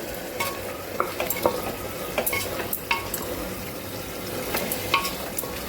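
Mutton stirred in a pan, with steady sizzling and repeated scraping, clinking stir strokes running throughout at close range.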